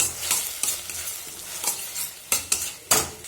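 Chopped tomato hits a hot pan of ginger, garlic, onion, cumin and coriander paste, giving a steady bright sizzle broken by several sharp stirring scrapes, close up with no voices.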